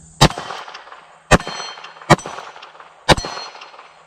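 Four sharp Glock 19 pistol shots from a Gen 3 build with a Cross Armory slide and Combat Armory barrel, each followed by a ringing clang from a steel gong target at a shooting range, evenly spaced and loud, with no talking.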